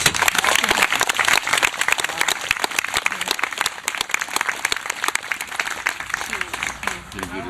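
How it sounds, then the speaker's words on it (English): An audience applauds an elderly stonemason honored for splitting stones fifty years ago, dense clapping filling the room steadily for the whole stretch, loud and close, slowly thinning toward the end. "I think he deserves a round of applause."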